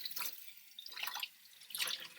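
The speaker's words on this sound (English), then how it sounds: "Then I'll turn on the hot water to rinse" Hot water runs from a kitchen tap to rinse a plate, splashing and dripping in uneven bursts that swell and drop back, heard alone with no talk.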